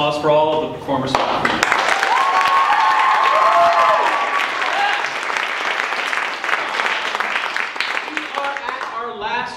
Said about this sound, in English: Give another round of applause for all of the performers.